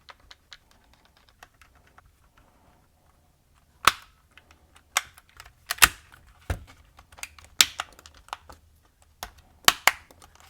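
A plastic game controller shell, a DIY PlayStation 5 Pro-style pad, being snapped closed: a quiet stretch, then a series of sharp, close plastic clicks and snaps at irregular intervals.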